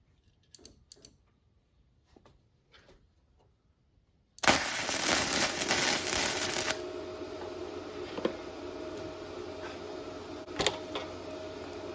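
A MIG welder tack welds heavy steel, a sudden loud, harsh buzzing crackle that lasts about two seconds and then settles into a lower steady hum, with a quieter brief burst later, all preceded by faint clicks and handling noises.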